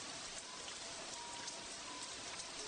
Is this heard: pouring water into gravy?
no